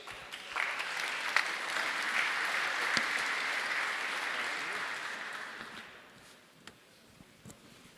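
Warm audience applause at the Pragma London 2024 conference as a speaker is welcomed to the stage, a steady burst of clapping for about five seconds that fades to a few scattered claps and small noises.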